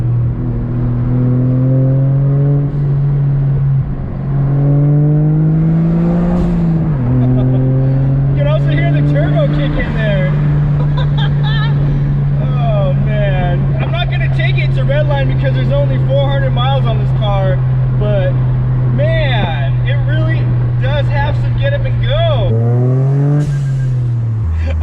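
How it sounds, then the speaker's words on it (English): A modded Toyota GR Corolla engine revs steadily and loudly from inside the car, the drone rising and falling with the throttle. Blow-off valve hisses are likely in the mix but cannot be confirmed, and someone talks over much of it. "like I'm in Fast and the Furious with that blow-off valve sound"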